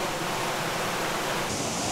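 High water rushing through a stream in the Okutama gorge, a dense, loud, unbroken roar of flowing water that fills the whole stretch with no voices.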